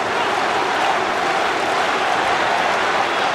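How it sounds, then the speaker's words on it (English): A rugby crowd roars in support of Portugal during a Rugby World Cup 2007 pool match against Scotland, a steady, dense wash of shouting voices filling the stadium. "The crowd shouting for Portugal."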